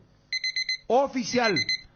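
An alarm clock rings in quick, evenly spaced electronic beeps. A burst of four plays alone, then a voice speaks over more beeps that continue underneath.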